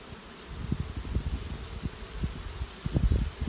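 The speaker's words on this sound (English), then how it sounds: "Bees are in a great mood today" Honey bees buzz around an open beehive during an inspection before the smoker is lit, a close, uneven drone with soft thuds and rustles from handling the frames, and nobody speaks.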